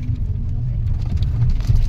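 A family car cruising on a morning drive with relatives aboard, its steady low engine and road rumble filling the cabin with faint background chatter.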